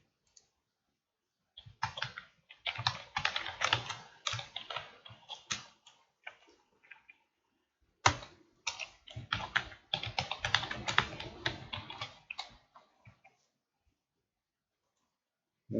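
Keys clatter on a computer keyboard in two bursts of quick, uneven typing separated by brief pauses, close and clear with no speech.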